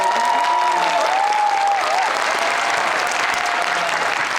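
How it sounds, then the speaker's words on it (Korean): A theater audience at a film talk event bursts into sustained, dense clapping that holds steady and fairly loud, with a thin whistling tone drifting over it early on. "재밌게 보신 만큼 박수 한번 크게 쳐볼까요?"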